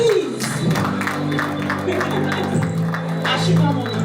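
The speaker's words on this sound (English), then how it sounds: "Please, a round of applause, please." An audience at an official launch event claps and cheers in a steady burst of applause, with a few whoops over the clapping.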